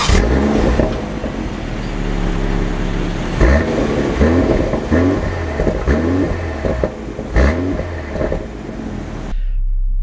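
A 2024 Ineos Grenadier Fieldmaster drives along with a steady, loud engine and road roar and a few louder surges. The noise cuts off abruptly near the end.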